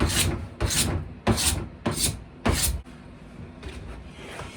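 A narrowboat bathroom surface being scored to key it for mosaic tile adhesive makes five loud, rhythmic rasping scrapes about half a second apart, then fainter strokes, close up with no talk.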